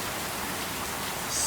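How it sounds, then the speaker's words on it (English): Heavy rain pours down steadily in a downpour that threatens to flood, a dense, even hiss of countless drops filling the space with no pauses or other sounds. "Look at this rain."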